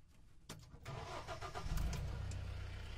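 A Mahindra Roxor engine with an updated air intake cranks briefly, catches and settles into a steady, loud idle with a rough rumble.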